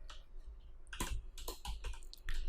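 Keystrokes on a computer keyboard while writing HTML code, a scattered run of quick, fairly close clicks and taps with short pauses between bursts.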